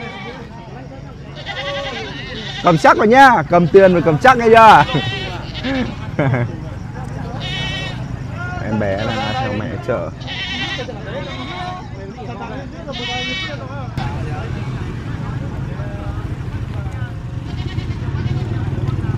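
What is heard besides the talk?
goats bleating at a mountain market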